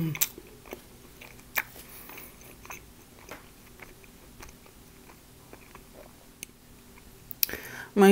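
Close, quiet mukbang-style eating of a club sandwich, with scattered bites and soft chewing clicks spread over several seconds and a louder crunch near the end.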